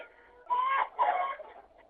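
Hens clucking among a flock, two loud bursts of squawking calls close by, with quieter clucks before and after and no talk.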